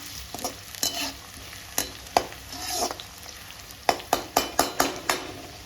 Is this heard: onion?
yes